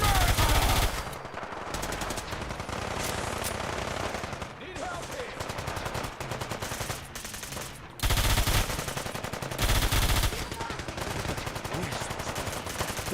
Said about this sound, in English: How about you get wounded by a nail gun?